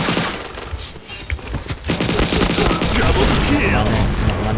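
Rapid bursts of Beretta gunfire ring out in the first-person shooter Point Blank, dense and loud with overlapping game sounds. A person talks over the shooting.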